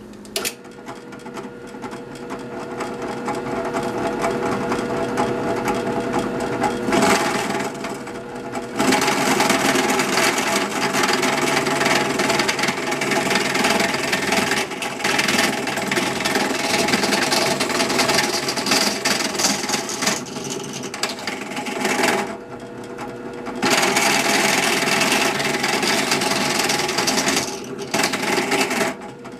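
A sewing machine stitches a pocket for a speargun trigger, running in a loud, close, continuous rapid mechanical chatter with a few brief pauses and restarts and no talking.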